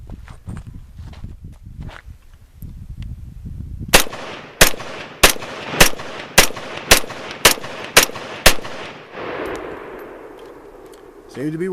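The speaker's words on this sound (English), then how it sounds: "I'm going to fire 10 shots out of it first of just standard surplus Russian ammo." SKS rifle firing surplus Russian ammunition outdoors: eight sharp, loud gunshots in a steady rapid rhythm with ringing decay, after a few seconds of quiet rustling beforehand.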